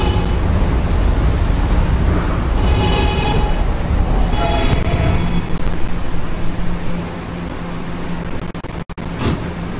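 An R211A subway train from the Roblox game running on the R line, a loud, continuous rail rumble and hum with faint tonal whines, easing slightly toward the end with a couple of sharp clicks.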